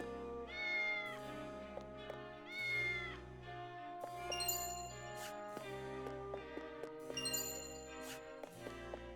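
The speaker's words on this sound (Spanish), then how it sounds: "Gato." A cat meowing in the video game Triangle Strategy, several drawn-out meows spaced across the passage over soft chiming game music and tinkling tones, faint and with no talk.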